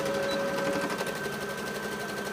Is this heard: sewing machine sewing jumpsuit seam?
yes